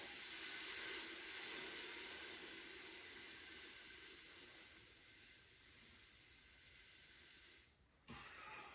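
Hot forged metal for a cant hook is quenched in water in a plastic bucket, giving a loud rushing steam hiss that slowly fades, then a brief dip and a short renewed hiss.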